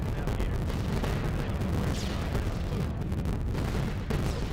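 Flak bursting around a B-17 bomber in a World War II flight game: a steady roar of engine noise and dense, overlapping explosive thuds and crackles, loud and continuous throughout.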